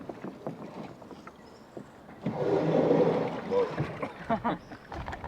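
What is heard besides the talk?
SSL580 boat casting off, quiet throttle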